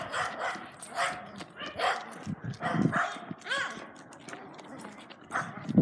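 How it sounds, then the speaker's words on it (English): A Great Pyrenees and a Labrador out on a walk give scattered barks, yips and whimpers at close range, mixed with some voices and outdoor movement. "This is a Great Pyrenees and a Labrador."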